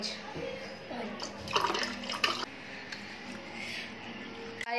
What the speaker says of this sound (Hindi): तो चलो गाइस चिंटू डालो पानी